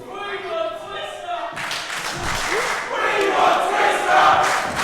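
A wrestling crowd at a Sacrifice Pro 8 pro wrestling show roars and shouts loudly, a steady wash of voices that swells further after the opening seconds, with a commentator talking over it early on.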